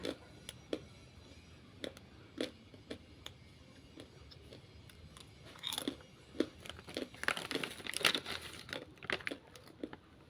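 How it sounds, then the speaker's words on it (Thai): Crispy baked jackfruit chips from a 100-gram bag are chewed close up, with sharp irregular crunches that come faster and denser toward the end, over a quiet background. "ทุกคนคงได้ยินเสียงความกรอบอยู่นะคะ"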